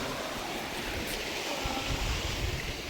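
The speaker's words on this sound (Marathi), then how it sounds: "इकडच्या पाण्याचा आवाज येतो बघू शकता इथं असं पाणी वड्यातलं" Steady rushing water noise fills the whole stretch, a continuous broadband wash like a stream flowing nearby, with no voices.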